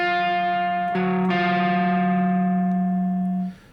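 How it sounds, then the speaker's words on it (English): Two sustained tones, a low note then a higher one a major seventh above, ring out together with a slightly buzzy, effected timbre before fading. "So we have the low note, up a major 7."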